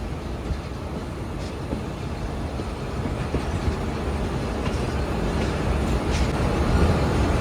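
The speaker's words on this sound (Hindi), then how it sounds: "नहीं बल्कि सीधा ही जा रही है ट्रेन" A passenger train on the Allama Iqbal Express route between Lahore and Sialkot runs steadily along the track toward Rajput Nagar station, with a continuous low rumble and faint clicks, heard from inside a coach with no voices.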